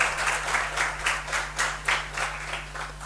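An indoor audience gives a round of applause at an official courtesy visit, with steady clapping from a modest crowd, moderately loud and swelling in soft waves without talk.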